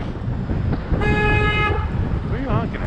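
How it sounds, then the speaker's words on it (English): A vehicle horn honks once for about a second in busy city traffic, amid a dense roar of road noise and rumbling engines, with a voice briefly heard over the din. "What are you honking at?"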